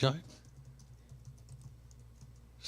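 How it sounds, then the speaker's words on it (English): Quick, steady typing on a computer keyboard during a live talk show broadcast, a soft continuous patter of key clicks at low volume, with a brief vocal sound at the very start. "Wait, stop typing a second, Regan."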